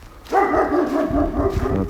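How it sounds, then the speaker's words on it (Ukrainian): A dog barks and yips in a short, close burst outdoors near half-built country houses, loud and continuous for about two seconds with no talk over it. "Собака почула, что тут якась інша гуляє."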